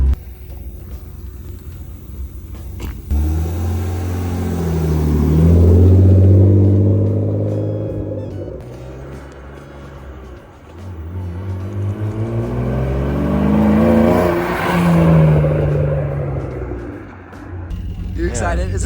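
A BMW E36 drift car's engine rises and falls in two long revving swells, loud and close, with low rumbling between the pushes and a voice talking over it.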